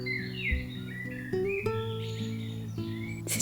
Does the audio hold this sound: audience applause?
no